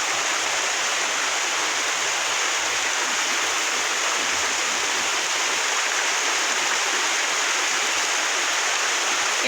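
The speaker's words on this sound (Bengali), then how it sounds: "প্রচুর বৃষ্টি হইতেছে" Heavy rain pours down at a village home, with running water rushing along the ground, forming a constant, loud, even hiss with no pauses and no voices.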